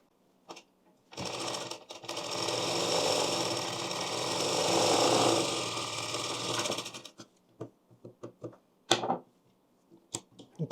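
A sewing machine stitches a blouse in a steady run of about six seconds, loud and close, then stops. A few sharp clicks and taps follow.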